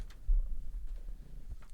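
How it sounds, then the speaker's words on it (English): A pet cat named Nala purrs softly and close by, a low continuous rumble with faint rhythmic pulses and no talking. "Told you there was a cat."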